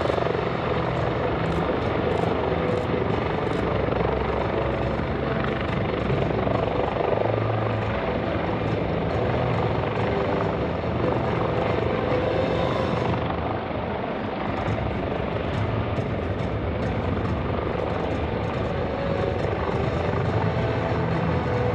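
A Coast Guard search-and-rescue helicopter hovering during an airshow demonstration at Joint Base McGuire-Dix-Lakehurst, a loud continuous rotor thrum and turbine whine holding steady throughout, with no talk.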